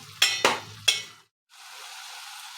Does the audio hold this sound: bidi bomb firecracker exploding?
no